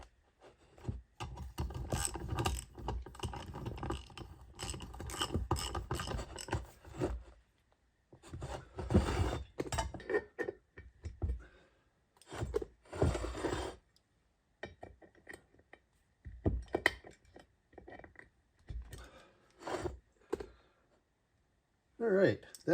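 Wrench work tightening the rear sprocket on a 1973 Kawasaki S2A motorcycle in a workshop, with repeated ratcheting and scraping bursts of metal on metal, close and fairly loud, broken by short pauses.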